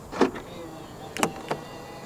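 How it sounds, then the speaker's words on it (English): A 2022 Proton Persona 1.6 Premium locks from the driver's door handle button with a soft click, then a quick pair of mechanical lock clunks about a second later, close and fairly quiet. "To lock the car, press the black button on the driver's side door handle."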